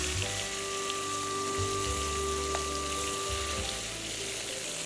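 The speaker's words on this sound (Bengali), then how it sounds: "আমার প্রায় ভাজা হয়ে গেছে" Pieces of chicken shashlik frying in a pan give a continuous bubbling sizzle, fairly close and even in level, over a faint steady hum, with no voices.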